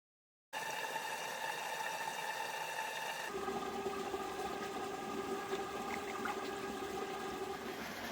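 Water leaking around the side of a small micro hydro dam intake, a steady broadband rush and trickle that starts abruptly and continues evenly throughout, with a brighter, fuller splashing texture in the latter half.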